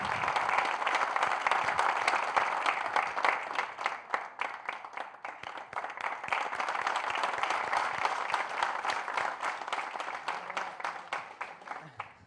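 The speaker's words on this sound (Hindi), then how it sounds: "एक बार जोरदार तालियों के साथ स्वागत करिएगा सुदीप भोला" Audience at an Independence Day kavi sammelan applauds to welcome poet Sudeep Bhola, sustained dense clapping for about twelve seconds, swelling and easing slightly, with voices faintly underneath.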